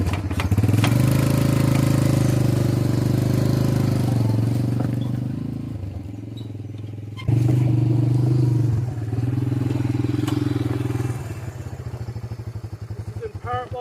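A three-wheeler ATV engine runs steadily while hauling a firewood trailer of hardwood, loud and close, dropping in level mid-way before surging again, with a clattering, chugging drone throughout.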